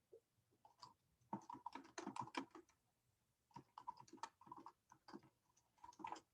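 Fingers type on a computer keyboard in irregular bursts of quiet clicks with short pauses between them, close and alone with no voices.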